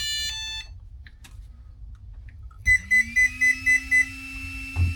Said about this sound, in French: Les 6 bips.